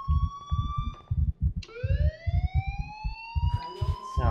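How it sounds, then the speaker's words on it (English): A school fire alarm rings in the Life Is Strange video game: a piercing electronic siren tone sweeping and repeating over a pulsing rhythmic beat, loud and close, with no talking. "Do you hear that fire alarm?"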